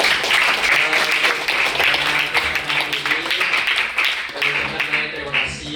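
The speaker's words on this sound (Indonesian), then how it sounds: "Sekali lagi tepuk tangan buat teman-teman." Audience applause at an Indonesian student talk show, a steady wash of many hands clapping, with voices talking and cheering over it.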